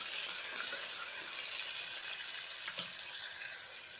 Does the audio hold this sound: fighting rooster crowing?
no